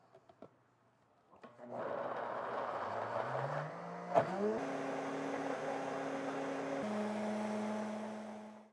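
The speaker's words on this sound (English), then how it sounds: "Put on the lid, we'll blitz it up" A food processor with the lid on blitzes roasted beet hummus made with olive oil. The motor whirs steadily and loudly for several seconds, shifting pitch as the blades work through the thick mixture, then runs on evenly before cutting off.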